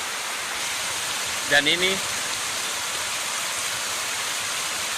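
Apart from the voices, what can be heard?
waterfall at natural river pools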